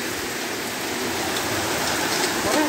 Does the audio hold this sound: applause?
no